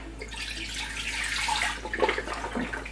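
Broth from juice boxes poured into a cooking pot, a close gurgling and splashing stream of liquid that swells and sputters over a few seconds, with a low steady hum behind it.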